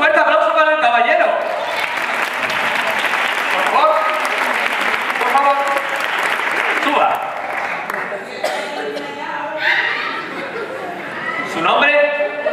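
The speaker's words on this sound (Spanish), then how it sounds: "¡Un fuerte aplauso para el caballero!" A theater audience at a ballet show claps loudly, with bursts of chuckling and laughter mixed in. Someone speaks over the applause, which swells and fades in waves.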